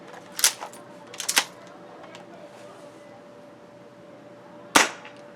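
Jag Arms Scattergun gas-powered airsoft shotgun fires over a chronograph, giving sharp close cracks: a pair of quick shots, then another pair, and one loud single shot after a quiet pause.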